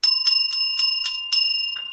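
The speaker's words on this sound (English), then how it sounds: "Long time I didn't hear that bell." A bright bell rings in quick repeated strikes for about two seconds, close and clear, with a sustained metallic tone behind the strikes.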